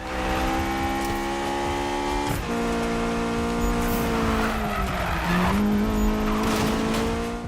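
A high-revving Honda S2000 sports car engine in the video game Need for Speed (2015) roars steadily, shifting pitch through gears, with tires squealing briefly; loud and continuous, no talking.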